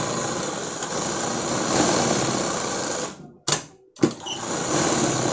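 A sewing machine stitches blouse lining with a loud, close, continuous whirring hum that cuts off briefly for a short pause, gives a quick burst, then resumes steadily.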